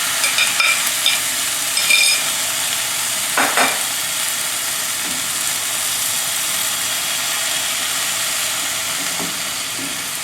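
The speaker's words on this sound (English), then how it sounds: "I'm just going to simply swirl my frying pan" Four beaten eggs for a Chinese omelette sizzle steadily in a frying pan, a constant hiss with a few faint clinks and scrapes early on.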